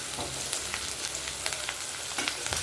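Chopped onions for rawa upma fry in hot oil in a pan, a steady close sizzle and crackle with small spattering pops throughout.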